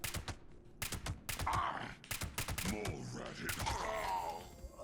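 Gunshots in Fallout 76, a quick series of sharp cracks fired in rapid succession alongside mechanical clicks and in-game vocal grunts, with quiet talk mixed in.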